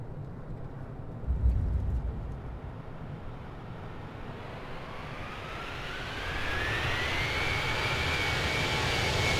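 Airplane engine in a Microsoft Flight Simulator 2020 replay, a soft steady roar with a brief thump early on, then swelling louder as a rising whine climbs in pitch.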